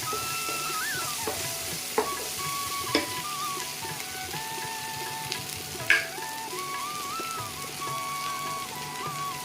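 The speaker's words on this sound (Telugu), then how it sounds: "టమాటాలు వేస్తున్నాను టమాటాలు కూడా మగ్గేంత వరకు" Tomatoes sizzle in a pan of jackfruit curry while being stirred, a steady crackling fry with a few sharp scrapes and clinks of the spoon against the pan, with no talking.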